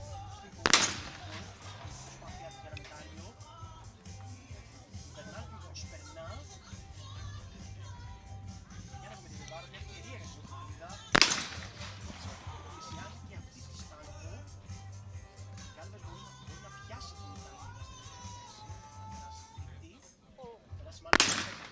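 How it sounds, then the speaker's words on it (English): Shotguns fire at a clay shooting championship: three sharp, loud single reports about ten seconds apart, each ringing out briefly over a low hum and faint background voices. "That was such a crucial shot for Galvez. It's a miss."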